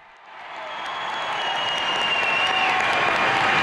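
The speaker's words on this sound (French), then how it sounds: "Acclamons donc toutes les personnes venues de très loin comme de très près pour participer aujourd'hui à cette manifestation." An audience at a Canadian labour tribute ceremony breaks into applause that swells quickly and holds as a dense, sustained clapping from a large crowd in a hall.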